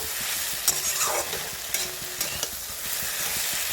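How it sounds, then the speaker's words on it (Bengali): Taro stolons cooking with fish in a pan are stirred over low heat, steady sizzling with a few sharp scrapes and knocks of the spatula. "আবার নাড়িয়ে নেব এটাকে এদিক ওদিক করে।"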